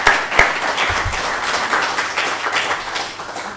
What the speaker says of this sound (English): if I might indulge the first round of applause